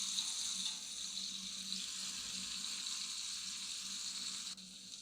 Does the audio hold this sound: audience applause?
no